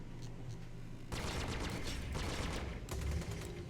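Spaceship guns fire in rapid sustained bursts in the space-combat game Star Citizen. Two dense volleys of crackling shots are separated by a short pause, loud and close over a low engine hum.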